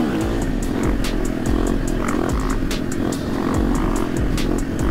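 A KTM 500 EXC-F motorcycle engine revs on a closed road, loud and close with a constant rasping drone and repeated throttle blips.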